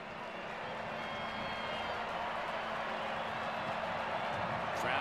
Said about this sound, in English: Crowd extolling this Clemson defense.